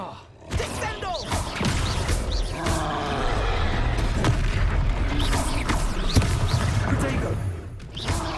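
The Descendo spell effect in the video game Hogwarts Legacy slams an enemy down with a heavy boom and rumbling impact, followed by crackling magical bursts and roaring debris amid battle noise, loud and sustained.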